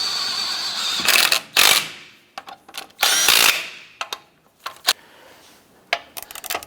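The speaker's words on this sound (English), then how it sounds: "Go ahead and snug down the lug nuts." A power tool snugs down the wheel lug nuts on a Chevy Colorado in several loud, close bursts of whirring and ratcheting, separated by short pauses and a few lighter metallic clicks.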